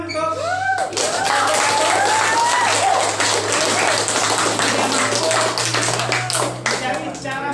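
Applause in a classroom session, a room full of people clapping loudly and steadily for several seconds, with voices talking and calling out over the clapping.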